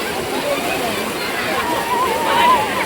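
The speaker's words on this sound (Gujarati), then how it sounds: "તરતા જાય છે બધા લાઈન છે" Water sloshes and splashes steadily as several people swim in a line through the river pool at the Galteshwar Mahadev site, a continuous wash of moving water with faint voices in the background.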